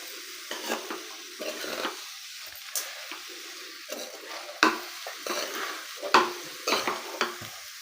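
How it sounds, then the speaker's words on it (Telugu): Carrot rice tossed and fried in a pan, with repeated scraping and stirring strokes over a light sizzle, in irregular bursts close by and without talk. "క్యారెట్ అంతా వీటికి రైస్కి పట్టేలాగా టాస్ చేసుకుంటూ ఫ్రై చేసుకోవాలి ఫ్రెండ్స్."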